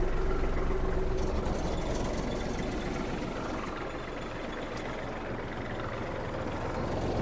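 A Kubota GL-320 Japanese mini tractor runs steadily nearby with its PTO shaft and cutting blades turning, giving a continuous low engine drone with a busy mechanical whir at fairly even loudness throughout.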